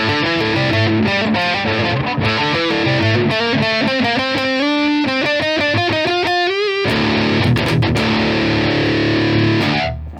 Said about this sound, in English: we are using now the Boss Metal Zone